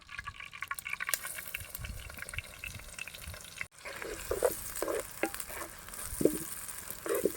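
Thinly sliced onions fry in a little oil in a pot for a goat head curry, a quiet continuous sizzle with scattered stirring scrapes and clinks, outdoors in a village setting.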